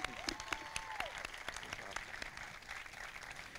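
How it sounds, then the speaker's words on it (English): Audience applause at a Memorial Day ceremony, a scattered outdoor round of clapping that stays fairly steady, with a faint voice and some background noise mixed in. "Let's give her another round of applause."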